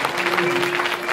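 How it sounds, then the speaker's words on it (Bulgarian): A church concert audience claps steadily in a short, dense burst of applause, with a held tone ringing beneath it. "Дайте ми моите аплодисменти на Господа, ръкопляскайте му"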